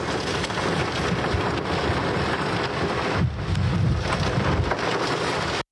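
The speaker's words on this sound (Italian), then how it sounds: "è avvenuto un temporale che ha coinvolto quest'area" A thunderstorm in the Veneto area with dense, steady rain hissing over everything. A low rumble of thunder rolls in partway through, and the rain stays heavy throughout.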